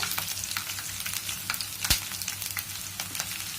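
Urad dal, chana dal and mustard seeds frying in oil in a pan over ginger and green chilli pieces for jackfruit curry, with a steady close sizzle, scattered sharp crackles and one loud pop near the middle.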